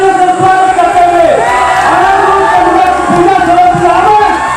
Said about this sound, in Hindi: जोरदार तालियों से स्वागत करते हुए